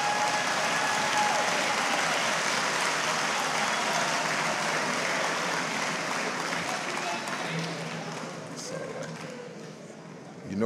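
A church congregation applauds at a Sunday worship service to celebrate a senior deacon's 88th birthday, steady dense clapping filling the room and tapering off toward the end.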